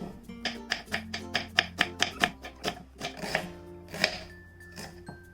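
Knife chopping through onions, green chillies and a small piece of beetroot for a salad on a cutting board, a steady run of close, crisp rhythmic strikes, quickening in the middle before slowing, with music playing underneath.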